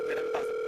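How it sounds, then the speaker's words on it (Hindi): A phone rings during a talk show with a loud, continuous electronic tone that holds steady throughout the brief moment, with no voices over it. "आपका फोन आ रहा है।"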